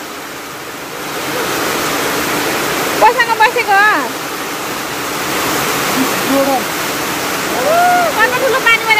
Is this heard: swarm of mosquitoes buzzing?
no